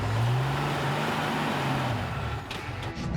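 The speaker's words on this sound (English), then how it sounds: "keep turning the tyres" Toyota Hilux stuck off-road with its tyres spinning: a loud, steady engine roar with a low droning whine that holds throughout, close by and continuous, without talk.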